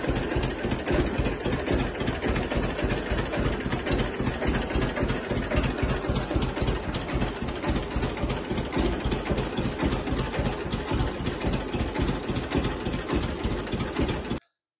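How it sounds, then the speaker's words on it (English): An old tractor engine runs after a carburetor cleaning, a steady rapid chugging idle with even rhythmic firing, loud and close throughout with no talk, cutting off abruptly at the end. "I'll put a little clip in here of that tractor running."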